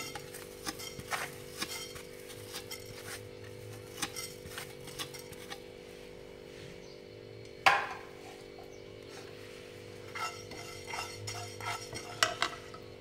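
Cumin seeds stirred in a pan where coriander seeds were just roasted, with soft scraping and light taps of a spoon against the pan, one sharper clink midway, over a steady background hum.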